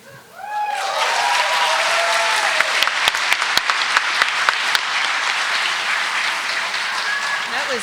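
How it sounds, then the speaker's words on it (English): A large commencement audience at Lone Star College-Tomball breaks into sustained applause that swells quickly and stays loud and even, with a few sharp individual claps and faint voices mixed in. "Please give her another round of applause"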